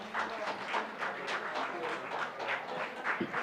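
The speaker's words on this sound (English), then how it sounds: "Please give a huge round of applause to this team." A round of applause from an audience honouring a community innovation hub team, moderately loud, a steady patter of many hands lasting a few seconds, with faint voices underneath.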